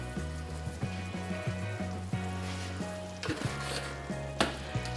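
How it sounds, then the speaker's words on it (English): Food seasoned with onion powder and chili powder is stirred in a hot pan for a budget meal, steady sizzling and frying with repeated scraping strokes of the spoon, close and moderately quiet. "Now I'm going to mix this up, stir it."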